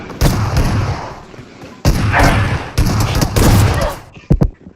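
Bursts of automatic gunfire in a PUBG-style shooter match fire in dense, loud volleys separated by short pauses, with a final few sharp shots, while players talk underneath.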